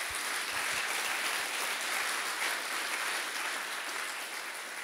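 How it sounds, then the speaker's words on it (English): An audience at a US Army Corps of Engineers gathering claps in a farewell round of applause, a dense, even patter heard at moderate distance throughout. "let's give John a round of applause and wish him farewell"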